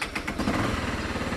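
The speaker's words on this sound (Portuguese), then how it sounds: "Você vai funcionar a moto." A Honda CB 300 or XRE motorcycle engine runs rough and unevenly close by, with irregular pulsing knocks in a low, uneven idle.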